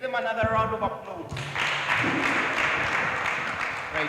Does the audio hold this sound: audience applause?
yes